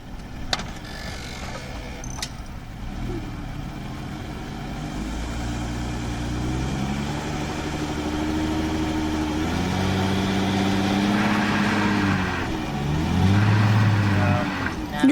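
Car engine straining in sand as the wheels spin without traction, a steady drone with rising revs toward the end, with people talking nearby over it.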